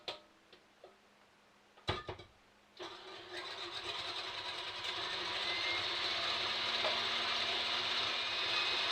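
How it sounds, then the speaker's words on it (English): An electric stand mixer with a whisk attachment whipping egg white. A few clicks and knocks come first, then the motor starts and runs as a steady, rising whir, close and alone. "Then I mix the egg white up with the stand mixer with a whisk attachment, which adds air to the egg white"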